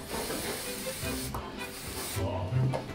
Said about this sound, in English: Spray it and leave it on.